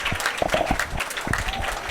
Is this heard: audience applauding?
yes